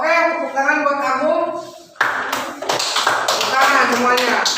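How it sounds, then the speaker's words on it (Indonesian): A classroom of children claps in a quick burst of scattered hand claps for a pupil who answered a fractions question at the front, following a teacher speaking. "Oke, tepuk tangan buat kamu."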